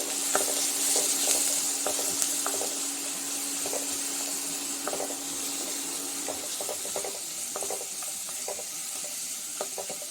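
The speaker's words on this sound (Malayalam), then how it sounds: "ചതച്ച് വച്ചിരിക്കുന്ന ഇഞ്ചി വെളുത്തുള്ളി ചെറിയ ഉള്ളി അതിട്ട് കൊടുക്കാം ഇതൊന്ന് വഴറ്റി കൊടുക്കാം" Crushed ginger, garlic and shallots sautéing in a pan, a steady soft sizzle with repeated light scrapes and taps of a spoon stirring, fairly faint and close.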